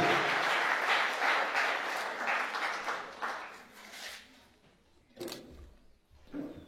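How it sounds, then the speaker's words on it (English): An audience at a university council ceremony, where a charter is handed to the vice-chancellor, claps warmly for about four seconds before the applause fades, leaving a few faint scattered noises. "Clap for him, please"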